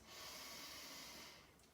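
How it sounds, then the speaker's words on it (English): A single deep, steady inhale drawn through the nose during a beginner yoga breathing exercise, close and soft, a smooth airy rush lasting nearly two seconds with no talking. "So I want you to imagine filling up a jug of water and then emptying that jug of water again. Okay, so 1 deep inhale through the nose."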